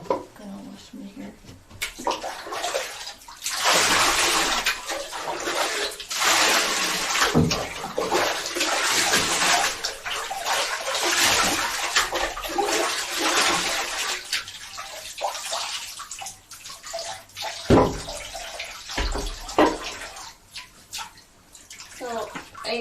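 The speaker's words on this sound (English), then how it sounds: "So, I'm gonna wash my hair." Shower water runs steadily while hair is being washed, a loud, continuous hiss close by, broken by splashes and brief interruptions.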